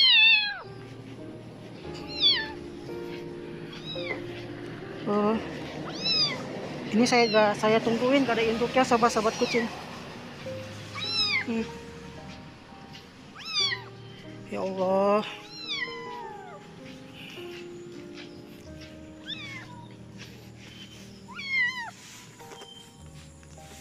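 A frightened, abandoned kitten meows and cries repeatedly in high, urgent calls during its rescue, close by, while a person speaks softly over and between the cries.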